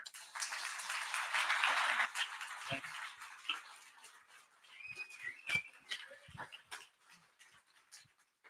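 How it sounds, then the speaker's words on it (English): Clear whistles ring out from an audience at a live Calgary event, brief tonal bursts rising over a broad wash of crowd noise, applause and cheering. "I think somebody's whistling at me."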